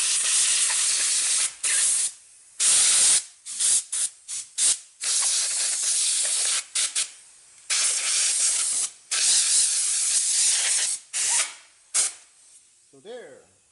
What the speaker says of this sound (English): you wanna blow with the air